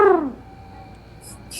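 A human voice imitates an owl, giving a single low hoot that slides downward at close range, then fades into quiet room tone.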